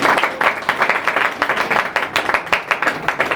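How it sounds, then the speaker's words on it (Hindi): A church congregation claps loudly together in a steady, rhythmic beat of sharp repeated claps filling the room, with no speech over it. "जोर से ताली बजाएं।"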